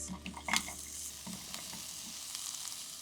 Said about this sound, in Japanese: フライパンをしっかりと温めて玉ねぎ加えていきます。